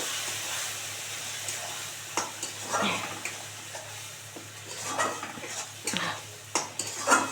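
A spoon stirs amudi fish in mustard paste in a frying pan, with scraping and clinking against the metal in uneven bursts over a low, steady sizzle.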